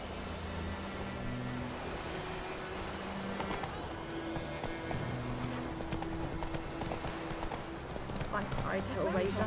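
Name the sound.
horse galloping with hooves clip-clopping in The Witcher 3 video game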